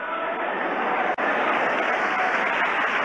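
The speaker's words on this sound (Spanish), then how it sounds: "¡Un aplauso grande!" A church congregation gives a big round of applause during a Sunday service, with dense, steady clapping from many hands filling the room at full loudness and no break.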